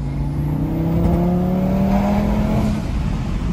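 An Audi RS3 turbo engine with an open intake accelerates hard, its loud rising drone climbing in pitch over several seconds with a whooshing turbo edge, close and alone.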